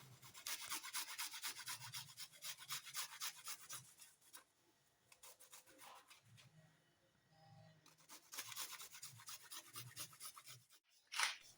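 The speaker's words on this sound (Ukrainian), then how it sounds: "На дрібній терці натираю 5 зубчиків чеснику." Garlic cloves rubbed back and forth over a fine kitchen grater, bursts of rasping scrapes with a short pause midway, close and fairly quiet, no talking.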